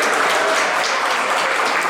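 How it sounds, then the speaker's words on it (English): A crowd at a Cystic Fibrosis Taste Tour food event in an event center gives a loud, dense round of applause that is steady and sustained, with no talk over it. "So let's give them all a big round of applause."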